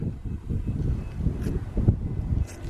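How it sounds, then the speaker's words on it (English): Wind rumbles and buffets against the microphone outdoors at a park and campground in Zurich, Montana, steady low gusting throughout with no voices. "it is getting windy out here"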